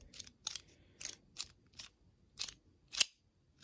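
A knife cutting open a sealed plastic Lego Simpsons minifigure pack, a series of six or seven short crisp crackling snips and cuts, close and fairly quiet with gaps between.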